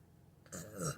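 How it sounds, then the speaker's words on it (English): One close burp from a person sitting in a car, a short low rumbling eructation lasting about half a second, rising out of quiet cabin noise. "I'm full of burps today"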